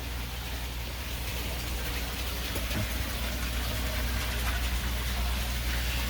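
Water flowing through the grow beds of an aquaponic system inside a greenhouse makes a steady, even wash of trickling and splashing that runs without a break and has no talk over it.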